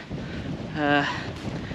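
Wind buffeting on the exposed summit of Caer Caradoc in the Shropshire Hills, a steady rushing roar against the microphone throughout a short stretch, with a faint tonal whistle in the middle.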